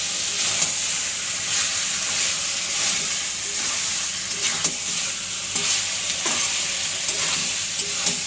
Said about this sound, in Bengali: মাংসটা আমরা এর মধ্যে দিয়ে দিচ্ছি। দিয়ে ভালো করে মিক্স আপ করতে হবে।